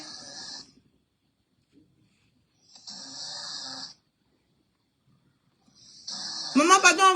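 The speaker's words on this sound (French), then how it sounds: "en train de ronfler en plein live" A person snoring during a live stream: three separate rasping snores a few seconds apart, each about a second long, with a voice rising at the very end.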